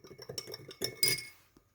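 A spoon stirs salt into water in a glass, giving a few close, bright clinks against the glass in quick succession, then fading out.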